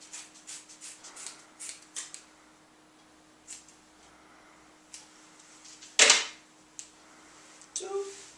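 Scissors snip through a folded piece of paper in a quiet room, a string of light, close clicks and cuts with one louder, sharper snip partway through.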